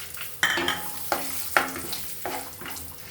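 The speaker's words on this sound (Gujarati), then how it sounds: "આ રીતે સિંગના દાણા નાખતા રહેવાના, હલાવતા રહેવાના ધીમા ધીમા તાપે।" Peanuts roast in oil over a low flame for Gujarati poha, with a gentle continuous sizzle broken by four or five distinct scraping stirs of a spoon against the pan at uneven intervals.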